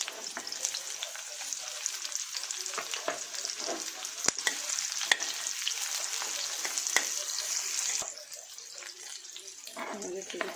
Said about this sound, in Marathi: आपण टाकणार आहोत कांदा अगोदर आपण काय भाज्या फ्राय करून घेणार आहोत